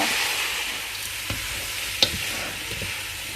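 Mango pieces drop into hot pickle masala frying in a pan, giving a steady close sizzle with a few soft knocks and stirring scrapes, and no voices.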